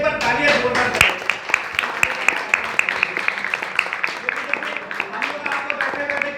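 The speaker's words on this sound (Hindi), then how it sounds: "तो एक बार तालियां जोरदार करें" An audience claps steadily at a theatre music workshop in Nagpur, a dense run of sharp hand claps that carries on for several seconds and gradually thins out toward the end.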